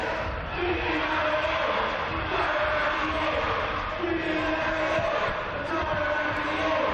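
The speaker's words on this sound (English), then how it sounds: "You can hear the crowd getting in behind their team." A crowd at a basketball game between the Taranaki Airs and Tauranga Whai roars in a packed arena, sustained loud cheering and chanting with rising bursts throughout.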